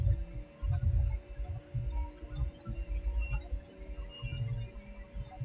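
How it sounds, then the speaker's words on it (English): Stand mixer on its lowest setting creaming thick double chocolate cookie dough, a steady low motor hum with rhythmic thumping pulses as the beater drags through the stiff dough, close and continuous. "If you can see that well on that mixer, it's only on the very first setting, the lowest setting."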